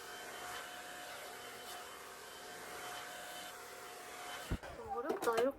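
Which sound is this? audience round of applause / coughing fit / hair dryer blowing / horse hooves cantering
hair dryer blowing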